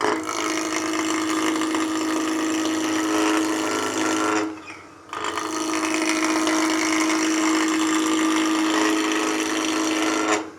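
Woodturning lathe taking gentle roughing cuts across the square corners of a wood blank for a salt or pepper mill at about 1700 RPM, a loud, steady broadband whir with a brief dip midway before the cut resumes.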